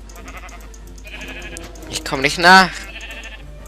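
Sheep bleating in Minecraft, a cluster of wavering bleats that swell to a loud peak near the end, heard under German-speaking voices from game players.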